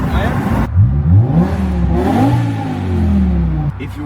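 A BMW M5 with a V10 engine, set to M mode, accelerates with a rising mid-pitched engine note and shifting revs that run through the clip, and people talk over it.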